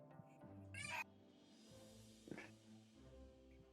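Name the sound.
cat meowing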